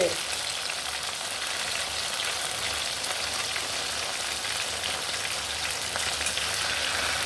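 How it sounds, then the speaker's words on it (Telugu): A steady, dense sizzle of stuffed ivy gourd curry frying uncovered on low heat in a pan continues without pause. "మూత పెట్టకుండా అలాగా సిమ్లో పెట్టి వేగించుకోవాలి."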